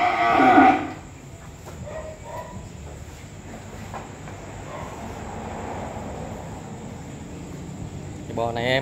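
Cattle moo at a cattle farm, with one loud close bellow at the start and another call near the end, over a continuous background rumble and murmur.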